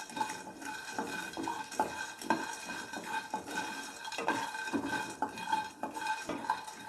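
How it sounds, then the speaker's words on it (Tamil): Peanuts, already roasted, are dry roasted lightly in a pan while being stirred, giving a steady scraping and rattling of nuts against metal, close and continuous with no talk. "இது ஆல்ரெடி வறுத்த கடலை தான், லைட்டாக வறுத்தா போதும், நம்ம எடுத்துடலாம்."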